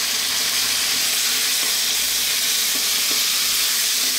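Spices, split chili and tomatoes fry in a pan for a broccoli curry, a steady loud sizzle and hiss with faint stirring clicks, no talk.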